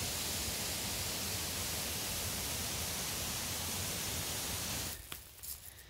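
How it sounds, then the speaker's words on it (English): Stream water flowing at Bumping Lake in the woods, a steady broadband rush, soft and even, then thinning out in the final second. "Just the sound of the flowing waters."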